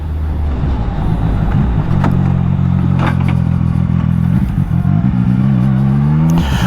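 A CF Moto 675NK motorcycle engine idles loudly close by, then revs up in a couple of rising bursts, its pitch climbing and falling steadily.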